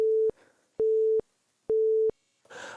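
A busy signal from a disconnected phone line: three loud, steady tone bursts with even gaps between them, each about a third of a second long, and a short burst of noise at the end.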